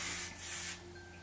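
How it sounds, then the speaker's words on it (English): Light hold hairspray sprays onto curled hair in a single short aerosol burst of about half a second, close and fairly soft, amid quiet room hum. "It's the light hold hairspray, but you can use any other hairspray, of course."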